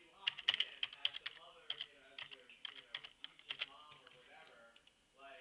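Rapid bursts of clicking keystrokes on a computer keyboard, close and fairly quiet, in irregular clusters with short pauses, and a voice faintly audible at moments.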